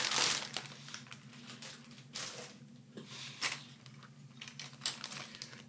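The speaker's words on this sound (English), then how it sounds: "Plastic. Again, this is a sealed bag." A sealed plastic bag of model kit parts for a MiniArt P-47D-25RE Thunderbolt is opened and handled, giving close, faint bursts of crinkling and rustling in irregular spurts, with no talking.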